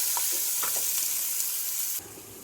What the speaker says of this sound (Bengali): তেলটা গরম হয়ে গেছে, তাই এখন তেলের মধ্যে চিংড়ি মাছগুলো ফ্রাই করার জন্য দিয়ে দিচ্ছি।